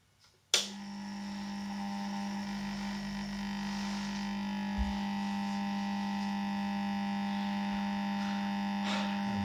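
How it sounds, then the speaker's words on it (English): A 250-watt GE high-pressure sodium lamp starts with a sudden click, then its igniter gives a steady electrical buzz and hum. The sound stays moderately faint and continuous, with a brief crackle near the end. "The noise you can hear is obviously from the igniter"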